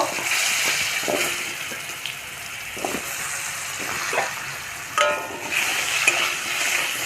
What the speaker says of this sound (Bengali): কড়ায় তেল আছে তো ওই কড়াইয়ের তেলে আলু